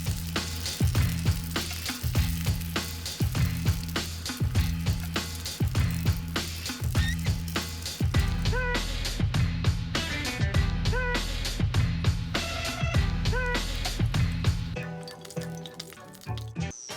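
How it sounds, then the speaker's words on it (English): Chicken chive gyoza fry in a hot pan with a steady crackling sizzle and popping drips, close and loud, while music plays over it throughout. "Now they fry."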